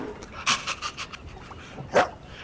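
A dog pants in quick breathy bursts, close and fairly loud, with a sharper yelp-like burst near the end, played as a sound effect during a tabletop role-playing game session.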